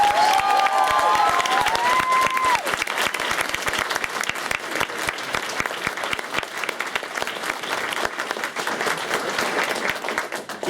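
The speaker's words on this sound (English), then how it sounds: "Please give a huge round of applause to all of our wonderful team." Audience applause at the Minamicon 19 convention closing ceremony, a dense, sustained crowd clapping filling the hall, with a brief whistle or cheer near the start.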